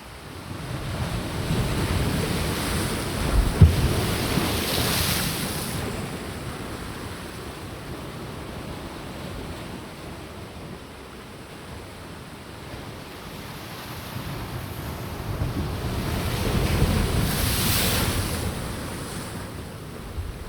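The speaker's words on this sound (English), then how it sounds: "You can hear how the waves are thumping and spraying." Ocean waves breaking in surges, thumping and spraying as broad rushing swells that rise and fall twice, with wind buffeting the microphone in between, fairly loud and close with no voices.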